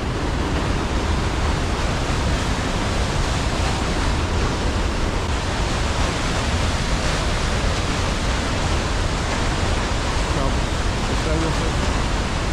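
Rushing water pours steadily at the Edessa waterfalls in Greece, a loud, unbroken roar filling the whole stretch without pause.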